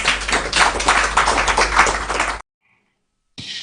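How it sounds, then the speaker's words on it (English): An audience claps in a dense burst for about two and a half seconds at a news event honouring NIMOS, then falls silent before a brief return of sound. "And let's clap for NIMOS."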